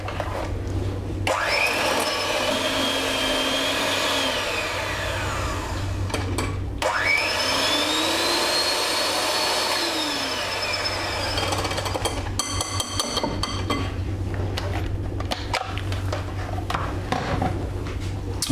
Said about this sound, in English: I'm going to mix these together with an electric hand whisk until it becomes a nice smooth mixture and slightly pale in colour.